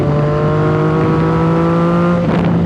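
A Yamaha FZ-09 / MT-09 motorcycle engine held at high revs with a Two Brothers full-system aftermarket exhaust, a steady droning roar with stacked harmonics, shifting slightly near the end.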